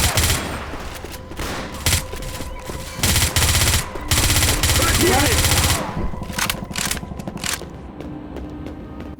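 Rapid automatic gunfire and shotgun blasts in the zombie shooter Left 4 Dead 2, dense bursts of shots layered over game noise with a voice talking underneath.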